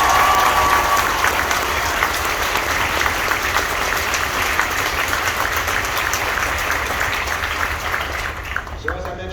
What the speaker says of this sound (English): I would like to make sure that we give a round of applause to this year's equipment manager and last year's equipment